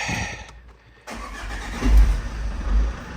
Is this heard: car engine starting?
yes